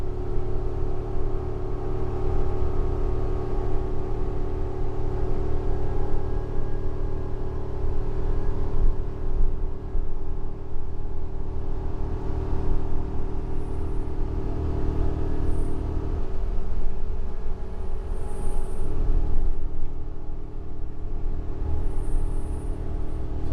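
A Ford V10 engine in a 30-foot Allegro motorhome drones steadily while climbing Baker Grade, a loud continuous engine and road rumble with a faint whirring tone from a noisy fan clutch.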